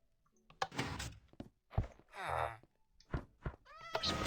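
Cat in Minecraft Bedrock Edition meowing, several short tonal mews scattered among soft thunks and clicks of game activity, fairly quiet and up close.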